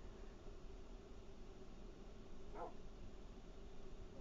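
A puppy in a video game gives a short, quiet bark partway through, heard alone over a steady hiss of background noise.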